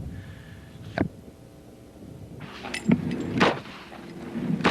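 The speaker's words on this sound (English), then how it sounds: "Semi-automatic, keep pulling the trigger, and the bullets keep coming." A semi-automatic assault rifle fires several separate sharp shots, one early and then a loose cluster of three or four later, each cracking loudly over quiet background noise, with no speech.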